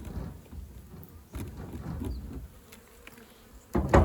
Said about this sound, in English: they're sort of feral type bees